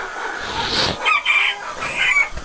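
A rooster crows nearby, a loud strained call broken into a few bursts over about two seconds.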